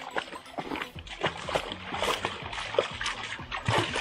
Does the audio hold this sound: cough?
no